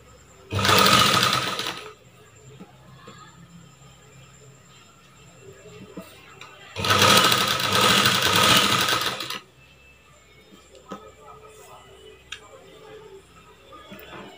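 Sewing machine stitches a blouse neck in two loud bursts of rapid whirring, about a second and two and a half seconds long, with quiet handling sounds between them and no speech.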